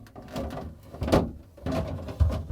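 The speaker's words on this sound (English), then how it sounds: "The new chilled room drawer goes in onto the rails" A Samsung refrigerator's chilled room drawer slides onto its rails with a few soft plastic bumps and scrapes, ending in a short firmer knock.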